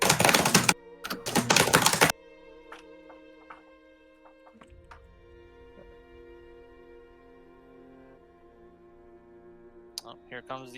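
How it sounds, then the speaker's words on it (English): A loud computer keyboard clacks in two dense, fast bursts of typing lasting about two seconds in all, then falls away under a soft, sustained electronic tone with occasional faint clicks. "Somebody's keyboard is very loud"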